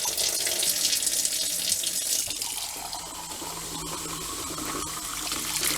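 Hot water runs steadily from a tap fed by a Geesen GE090T tankless water heater, a continuous close hiss and splash into a sink with no talking.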